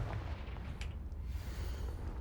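Confringo fire spell blast in the Hogwarts Legacy video game, heard as a low, rumbling explosive boom that sustains for a couple of seconds with a brief brighter burst partway through.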